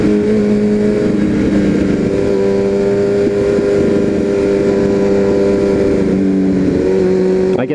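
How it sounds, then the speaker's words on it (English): A motorcycle engine runs steadily close by on a ride, its throaty drone holding a constant hum with slight shifts in pitch and no speech over it. "I can see so many heads turn when I rev my engine."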